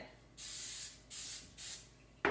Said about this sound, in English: Spray the tin.